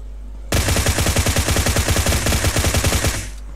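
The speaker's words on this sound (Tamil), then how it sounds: "அபார்ட்மெண்ட் சைட்லேருந்து ஏதோ ஃபயரிங் வந்துருக்குது." Rapid automatic gunfire in the PUBG video game, a loud close burst of evenly spaced shots lasting about three seconds before cutting off.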